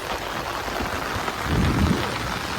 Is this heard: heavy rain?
yes